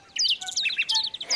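Small cartoon birds chirp and tweet in quick, bright bursts, several overlapping high calls close by for about a second and a half with no talk.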